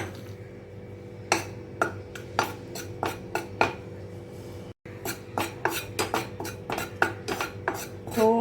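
Gram flour (besan) dry-roasting in a pan for stuffed chilli fry, a metal spoon clinking and scraping against the pan in irregular bursts, close and fairly quiet, no talking.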